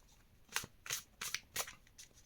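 Dino Tarot cards being shuffled, four or five quick papery riffles in a short burst, close and fairly quiet.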